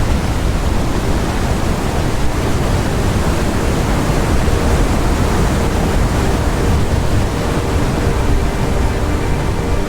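Ocean waves crashing against a sailboat at sea in WILL: Follow The Light, a loud, dense, continuous wash of surf and wind with no pauses.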